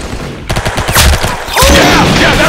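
Rapid bursts of gunfire in the Roblox shooter game Arsenal, loud close shots in a quick rattling string followed by a denser second volley.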